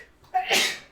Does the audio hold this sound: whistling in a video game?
no